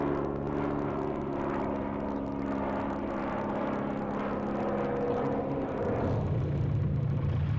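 Vintage de Havilland Moth biplane engine at an air show, a continuous droning propeller rumble heard from a distance on old film sound, steady throughout with a slight shift near the end.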